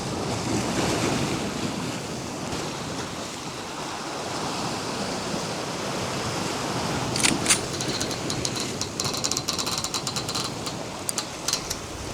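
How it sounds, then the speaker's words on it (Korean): Strong headwind buffeting a microphone on a sea coast while fishing, with surf washing in the background and a few sharp clicks and rattles later, no talk. "지금 맞바람 불어가지고 상황이 막 좋지는 않아요"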